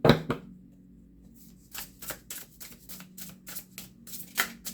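A deck of cards riffled twice, each a crisp fluttering burst, after a brief sharp tap; close and fairly quiet against a low steady hum.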